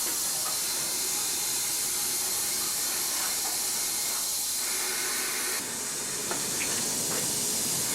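Degreaser sprays onto a primed camper van headlight surround panel as a loud, continuous close hiss for the whole stretch, with a brief dip and a slight change in tone partway through.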